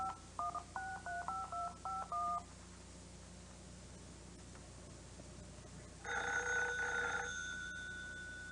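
A telephone is dialed with a quick run of about eight touch-tone beeps, then after a pause the line rings once in a long electronic burble, clear and close with no voices.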